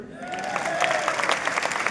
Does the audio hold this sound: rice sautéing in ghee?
no